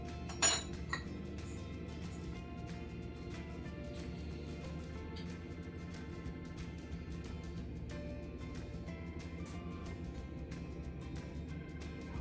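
A spoon taps faintly against pudding moulds while toffee sauce is spooned into the bottom of each, giving a few light, sparse clinks with a sharper one near the start over a steady low hum.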